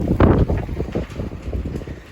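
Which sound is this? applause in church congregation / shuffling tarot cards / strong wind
strong wind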